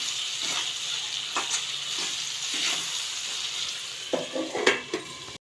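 Chopped tomatoes frying in a pan for instant poha, a steady soft sizzle with occasional stirring scrapes and clinks of a utensil near the end.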